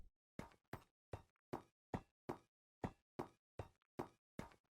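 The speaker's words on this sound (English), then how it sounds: "it sounds like you're walking around a metal floor" Footsteps on netherite blocks in Minecraft: about ten sharp, metallic knocks in an even walking rhythm, close and clear with silence between steps.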